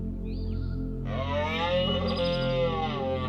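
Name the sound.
male wild animals roaring loudly in autumn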